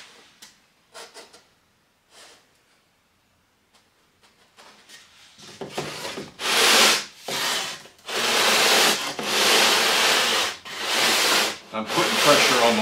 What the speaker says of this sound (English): as to not sand out the middle.